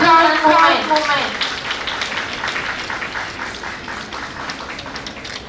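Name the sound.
audience applause at a conference celebration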